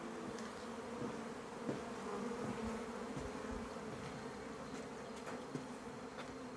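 Honey bees swarm around an opened hive of drawn comb, producing a dense, steady buzzing hum that fills the space close up, with occasional individual bees flying past nearer the listener.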